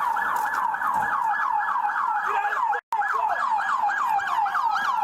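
Police backup approaching with sirens, a loud wailing siren cycling quickly and repeatedly, nearby and continuous apart from a brief dropout.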